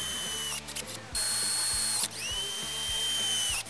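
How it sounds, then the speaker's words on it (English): A power drill boring through a helmet, a loud, close whine with pulsing ratchet-like clatter that stops briefly, restarts and runs on steadily. "Oh gosh, and you're gonna drill a hole in it."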